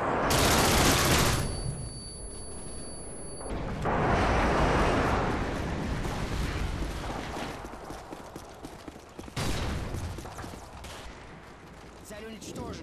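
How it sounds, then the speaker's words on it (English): Airstrike in online play of the video game Modern Warfare 2: a loud burst of rumbling blasts followed by a long stretch of crackling, rolling explosions and gunfire that swells again near the end, with a voice heard in the mix. "Airstrike on the way."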